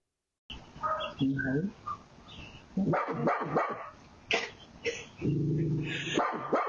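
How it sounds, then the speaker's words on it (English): A small dog, a five-year-old dachshund, barks and yips in short bursts on a home porch in Prince George's County as it is snatched, the calls fairly close and mixed with other voices and commotion. "shocking video tonight of a dog being snatched from the porch of a Prince George's County home"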